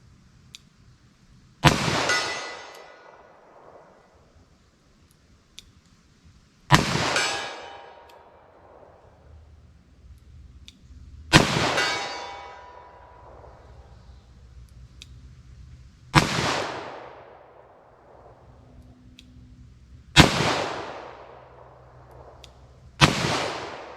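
Six loud, sharp gunshots from a .38 Special +P FBI-load handload with Hornady bullets, fired from a 4-inch barrel at a target 75 yards away outdoors, spaced a few seconds apart, each ending in a ringing, echoing decay.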